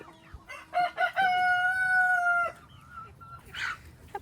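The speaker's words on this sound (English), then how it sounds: "They're like got a chicken standoff thing going." Chickens on a farm crowing and clucking during a standoff after a fight, a loud drawn-out rooster-like crow following a few short calls, then a quieter squawk near the end.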